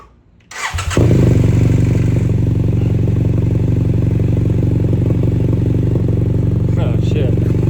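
A BMW F800 GS motorcycle fitted with a Delkevic exhaust, baffle left in, fires up close by after a brief crank and settles into a loud, steady, throbbing idle that fills the rest of the clip.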